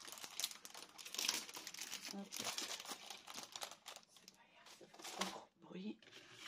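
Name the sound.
paper rustling while crafting an album cover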